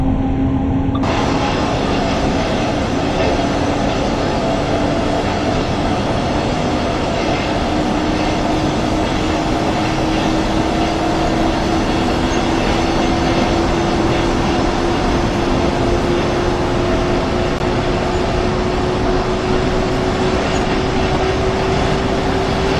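Inside a double-deck passenger coach pulled by a BR 146.2 electric locomotive in Train Sim World, a steady rail rumble runs continuously with a slowly rising motor whine, loud and unbroken throughout.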